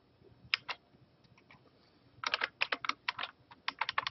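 Typing on a computer keyboard up close, beginning with a few scattered key clicks and then breaking into a rapid, uneven burst of crisp keystrokes, with no voices.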